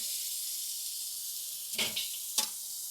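Dry-brined steaks sizzle on a grill with a steady, bright hiss, broken by a couple of brief louder crackles and flares.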